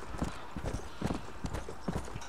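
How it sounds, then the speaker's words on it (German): Horse hooves clip-clop in a steady galloping rhythm while riding in Red Dead Redemption: Undead Nightmare, close and clear with a low rumble beneath. "So, schön jetzt reiten, hier rüber reiten."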